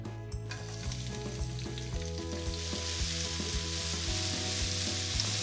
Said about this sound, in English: we'll get onto that other great hot dog classic, the fried onions